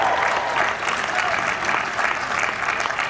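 A spring commencement audience applauds in a steady, dense wash of clapping with some cheering mixed in. The sound stays fairly even for about three seconds.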